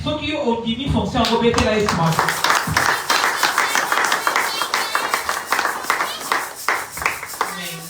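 A church congregation claps in rhythm to acclaim Jesus, loud and close, with dense repeated hand claps mixed with voices singing and shouting over them.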